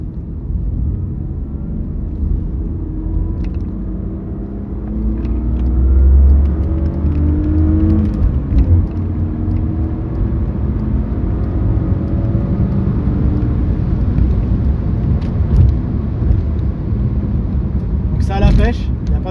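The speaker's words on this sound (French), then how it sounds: "Il y a le bruit du 6 cylindres qui est assez agréable à l'oreille" A 1998 BMW 323i with a 170-horsepower six-cylinder engine accelerates from inside the cabin, a deep rising drone that swells and holds steady, while someone speaks over it nearly the whole time.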